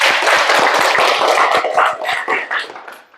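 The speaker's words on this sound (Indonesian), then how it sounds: "Tepuk tangan buat Elsa." Primary school pupils applaud a classmate's answer in a lesson, a brisk, bright burst of many small hands clapping close by, then tapering off.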